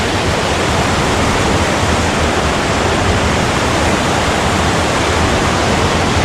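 Water pours into a deep pool in a southwest Colorado stream, a steady, loud, close rushing roar with no break and no voices.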